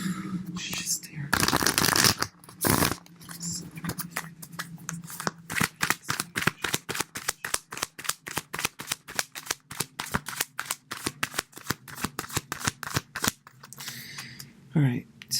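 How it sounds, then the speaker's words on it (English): A deck of tarot cards is riffled and shuffled over and over, a rapid run of crisp, close flicking bursts in a steady rhythm, with a little talk at the start. "Sorry it's taking a while to shuffle these."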